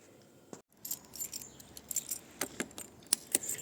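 A set of keys jangles in close, irregular metallic bursts, loud and alone with no voices.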